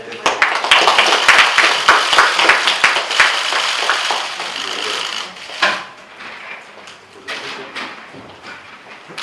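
An audience claps together at a Bareunmirae Party talent-recruitment announcement, a dense burst of hand claps that gradually thins and softens toward the end.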